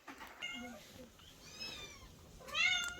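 A cat meows softly several times inside a church in Kwale, Kenya, with short high cries spaced across a quiet room and a slightly louder meow near the end.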